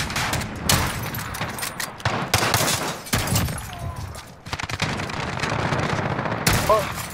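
Gunfire in Call of Duty: Modern Warfare, including Kar98 sniper play, comes as loud, close bursts and rapid automatic volleys separated by brief pauses, with players talking over it.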